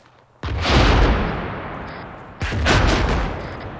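Two heavy mortar impacts hit in the Operation Desert Storm video game, each a sudden loud boom with a long rumbling decay, the second arriving about two seconds after the first.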